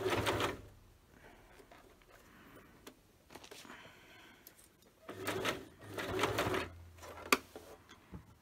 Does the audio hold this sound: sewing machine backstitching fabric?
yes